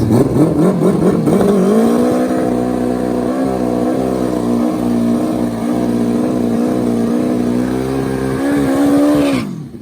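Turbocharged Hayabusa street bikes drag racing at a pro street motorcycle event, engines screaming loud and near in a sustained high-revving howl with rising pitch and rapid gear-shift breaks, continuous for about ten seconds.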